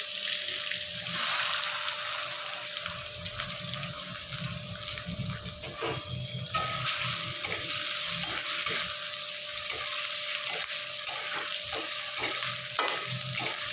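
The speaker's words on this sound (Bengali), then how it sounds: "পেঁয়াজটা এবার হালকা লাল করে মামনি নাড়াচাড়া করে ভেজে নেবে" Chopped onions sizzle in hot oil in a pan while being stirred, a continuous frying hiss broken by clinks and scrapes of a spatula, with no talking.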